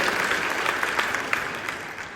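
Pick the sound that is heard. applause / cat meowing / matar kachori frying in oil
applause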